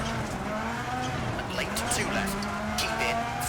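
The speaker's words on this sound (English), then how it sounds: "Feel the engine, yeah, it's got all the engine vibration and everything there as well." Car engine running while driving and picking up speed, a continuous loud rumble with vibration and road noise throughout.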